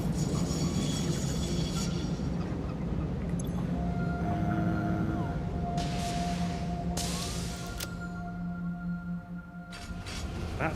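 A train rolling along its track in the factory-building game Satisfactory, a steady low rumble with a long tonal hum and occasional hissing bursts, continuous throughout.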